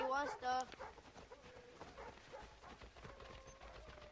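Dogs in the video game Assassin's Creed 3 bark and yip in a few sharp bursts near the start, then fade into faint background game noise with voices talking over it.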